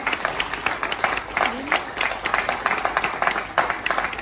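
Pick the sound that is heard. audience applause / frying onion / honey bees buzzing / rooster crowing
audience applause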